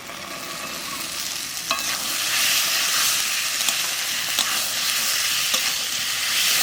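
Peas tossed into a frying pan for dum aloo and stirred, giving a steady sizzle and frying hiss with occasional light scrapes of the spoon; the sound is continuous and close, with no talking.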